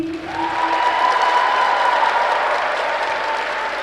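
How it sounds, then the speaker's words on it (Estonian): Concert audience gives loud, sustained applause to honor three women, dense continuous clapping from a large crowd with a held tone audible beneath it. "teeme neile vägeva aplausi"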